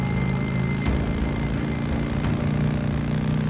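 A motorcycle engine idles in the video game Days Gone, a steady low rumble that holds evenly throughout with a couple of faint clicks over it.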